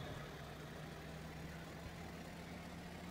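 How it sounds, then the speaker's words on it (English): A bus engine in a video game drones steadily with a low, constant rumble, holding close and even throughout with no talk over it. "Those are the sounds of it accelerating."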